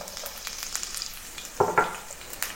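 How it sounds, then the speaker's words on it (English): Green onion hits hot oil in a pan and sizzles with a steady crackling hiss, broken by a couple of louder clatters of tossing partway through. No one speaks. "in the pan, add a little bit of oil if it's needed and toss in the green onion"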